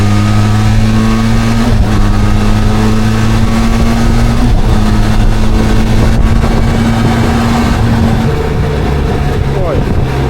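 A beginner-friendly A2-class trail motorcycle being ridden, its engine droning loud and steady with small shifts in pitch as the throttle changes, under constant wind rush.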